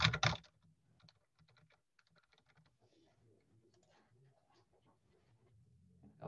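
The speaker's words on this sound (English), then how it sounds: "You're gonna type in the property address again." Quiet, sparse tapping on a computer keyboard comes in short irregular clusters of keystrokes, with someone talking softly over it and louder noise bursts at the start and end.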